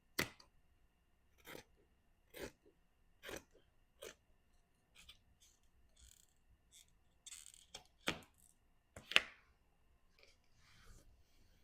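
Scissors trim away a seam in a thrifted garment, a series of quiet, crisp snips with pauses between them, close and alone.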